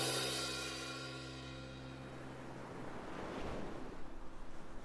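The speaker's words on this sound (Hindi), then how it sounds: "वो शाम लहरों की आवाज से शुरू हुई थी।" Ocean waves roll in as a sound effect, a rushing swell that fades and then builds again into a broad, breaking surge of surf with windy noise, and no voices.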